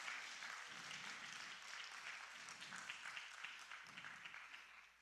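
A church congregation at an Easter young adults' worship service applauds a performance team and guest performers, a steady, dense wash of hand claps with faint low murmuring underneath, holding for about five seconds.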